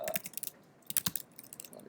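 Computer keyboard typing during a programming class: irregular bursts of crisp, close key clicks with short pauses between runs, no talking.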